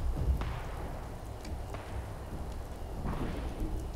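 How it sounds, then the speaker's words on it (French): Rain falls in the Fallout 76 video game as a steady wash of patter with a few sharper crackles and low rumbles throughout. "mettez-moi du beau temps là, j'en peux plus de votre pluie lagante"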